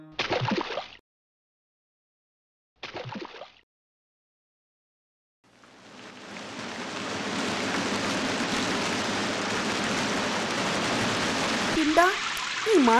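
Steady, heavy rain pours down continuously across most of the clip, loud and close, after two short bursts of talk at the start, with a voice speaking over the downpour near the end.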